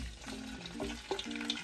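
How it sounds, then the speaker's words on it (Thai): Shrimp stir-fry in hot oil with a soft continuous sizzle, broken by a few light stirring scrapes, faint and close. "เอากุ้งมาผัดเลยผัดน้ำมัน"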